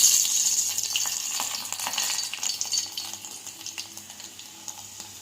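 Crushed garlic cloves sizzle in hot oil in a pan while tempering is prepared for gongura curry, a bright, steady crackle that fades gradually with small pops.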